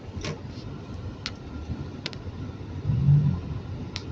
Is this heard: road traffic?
yes